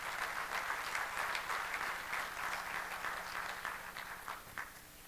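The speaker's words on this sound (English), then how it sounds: "So everybody give a big round of applause for Kevin." A conference audience at SimGHOSTS 2015 applauds as a Laerdal partnership speaker is introduced, a quiet, steady patter of many hands clapping that gradually thins and fades toward the end.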